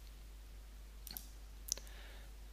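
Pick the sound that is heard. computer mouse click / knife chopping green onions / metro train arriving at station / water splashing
computer mouse click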